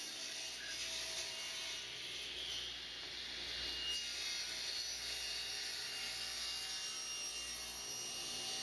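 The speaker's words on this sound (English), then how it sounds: "table saw with a 5 horsepower motor and a thin curved, newly sharpened blade goes through this wood like butter" A table saw with a 5 horsepower motor and a thin, newly sharpened curved blade cuts wood, making a quiet, steady high whine and hum that runs unbroken, with no talking.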